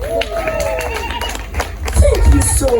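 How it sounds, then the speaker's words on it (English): Crowd at a live music show in Mbarara clapping for a band, loose and uneven applause with chatter and voices mixed in, building louder toward the end. "Clap for them."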